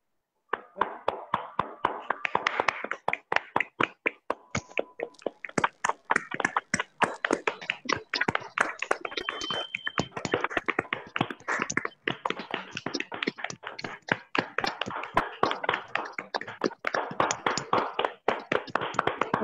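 An audience at a wellness festival applauds warmly to welcome a speaker named Anil onto the stage, a long stretch of dense, sustained clapping with sharp individual claps standing out.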